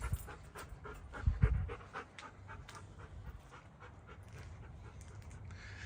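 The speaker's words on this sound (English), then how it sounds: "Here's our dog." A dog pants quickly and steadily at an outdoor campsite, close by, with a few louder snuffly breaths early on over a low ambient rumble.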